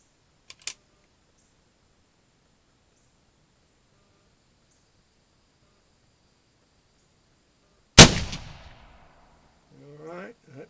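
Traditions 1873 black powder single-action revolver firing a blank charge, one sharp loud crack with decaying echo after a faint early click, followed by a short murmured voice.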